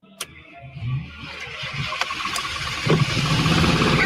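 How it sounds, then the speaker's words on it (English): A car engine cranks and catches after a few sharp clicks, then settles into a rising idle, heard close and moderately loud with no talking. "When this person turns on the car"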